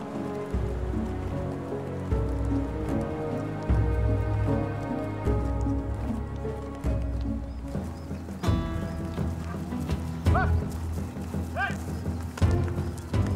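Horses of Spanish conquistadors clip-clopping, irregular hoof strikes mixed with a horse's whinny over a swelling orchestral score, set against a rain-like wash of background texture.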